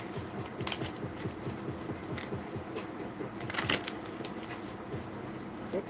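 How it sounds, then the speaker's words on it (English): A deck of tarot cards is shuffled repeatedly, a rapid riffling flutter of cards close by, steady throughout with no voices. "All right, couple more shuffles here"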